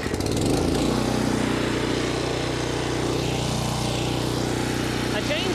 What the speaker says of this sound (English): I brought out a 2000 PSI pressure washer